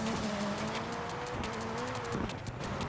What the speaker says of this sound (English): just throwing the car into those corners